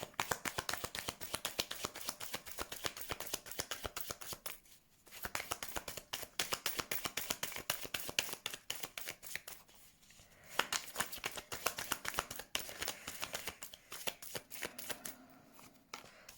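Tarot cards are shuffled by hand in dense, rapid riffling bursts of crisp flicks, close and continuous, broken only by brief pauses between rounds.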